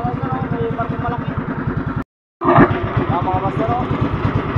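A large ship's engine at sea chugs in a steady, loud, rhythmic low pulse, cutting out briefly for a moment before resuming; voices murmur faintly beneath the throbbing.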